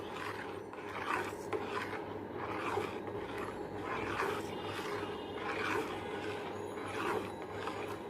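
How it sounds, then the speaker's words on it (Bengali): Milk being stirred in a pot on the stove as it comes up to a boil for Bengali mishti doi, a steady scraping, rasping sound repeating in a slow, even rhythm at close range, with no talking. "দুধটা এইভাবে আমরা 2-3টা বলক আসা পর্যন্ত নাড়তে থাকবো।"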